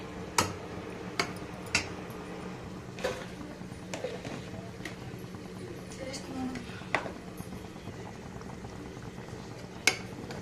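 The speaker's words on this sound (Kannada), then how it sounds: "ನೋಡಿ ಇನ್ನು 1 ನಿಮಿಷ ಕುದೀಲಿ ಚೆನ್ನಾಗಿ" Tomato gojju simmers in a pan, a soft bubbling with small scattered pops and a few sharper ticks, fairly faint and steady.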